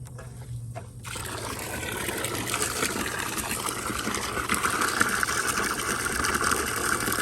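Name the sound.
water running through a hose connected without a spigot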